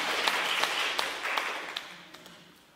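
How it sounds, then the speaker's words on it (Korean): An audience at a Gyeonggi provincial dance company preview claps to welcome the choreographer, moderate applause with a few sharper individual claps standing out, gradually thinning and fading away. "다음은 우리 임진호 안무가님 박수로 맞아주시기 바랍니다"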